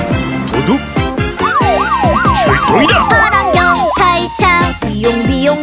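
A police car siren wails in a Korean children's cartoon song about rescue vehicles, its swooping pitch rising and falling over busy music and singing.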